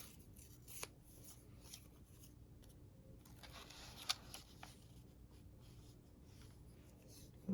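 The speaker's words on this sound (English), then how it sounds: "Try cutting this in half." Scissors snip through paper for a junk journal, quiet and close, with a few soft crisp cuts and rustles over a hushed room.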